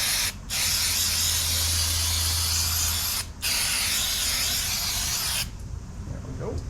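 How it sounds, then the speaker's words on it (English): During a front brake job on a 2004-2008 Ford F150 2WD, an aerosol can sprays onto hands in three or four long, close hissing bursts separated by brief pauses. "Just spray down my hands now."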